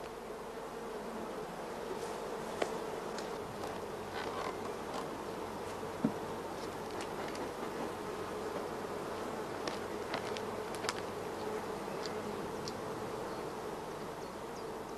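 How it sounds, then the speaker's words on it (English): Nurse honey bees on a queen rearing frame fill the air with a continuous dense buzzing hum, close and steady, with occasional individual bees passing nearer, and no voices. "Here the nurse bees provide the young larvae with large quantities of royal jelly."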